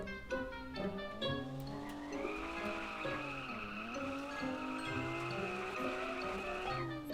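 A car engine in the video game Car For Sale drones and whines steadily, its pitch sliding down then climbing and holding, with a screechy tire-squeal edge; no talking.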